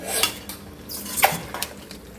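Chicken kondattam is stirred with neem leaves in a pan, giving repeated metallic scrapes and clinks of a utensil against the pan at close range with no voices.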